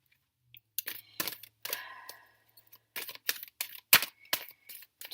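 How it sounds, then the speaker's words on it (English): Tarot cards are shuffled in short bursts, quiet riffling and slapping sounds close by, with brief pauses between each shuffle. "let's do a couple more shuffles"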